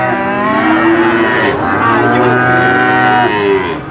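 Cattle at a cattle market, including a Limousin Cross heifer, lowing in a long, loud, continuous moo that swells and holds for several seconds, close by.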